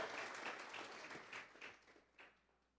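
Congregation in a Spanish-language church claps in praise: fairly faint, brisk group applause that starts full and gradually thins out over a few seconds, with no talk.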